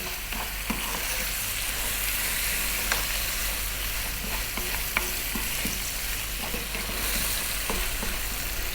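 Lamb and potato curry with fresh chili fries over above-medium heat and is stirred often. A continuous close sizzle runs under frequent scraping and clinking stirs.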